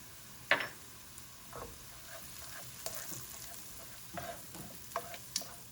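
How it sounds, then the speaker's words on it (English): Onions and powdered garlic sizzle quietly in a pan for an orzo risotto, a faint steady frying hiss broken by a few sharp scrapes and taps of stirring. "we'll add our powdered garlic so that we can caramelize our onions"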